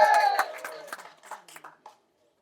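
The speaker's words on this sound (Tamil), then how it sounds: "தயவு செஞ்சு நீங்களே ஒரு தடவை கை தட்டிடுங்க" An audience claps for a speaker at a film event; a burst of clapping mixed with voices starts loud and thins into scattered, fading claps, then stops within about two seconds.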